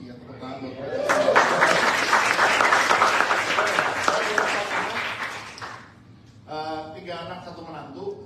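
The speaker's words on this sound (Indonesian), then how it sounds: "Ya, tepuk tangan buat mereka." Church congregation applauding the women present, a full room of clapping that swells and holds steady for several seconds before fading, followed by a voice speaking.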